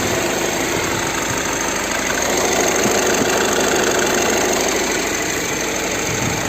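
The 2.0 TDI diesel engine of a VW Touran runs at a steady idle, a loud continuous rumble with a fine rapid knocking texture and no voices.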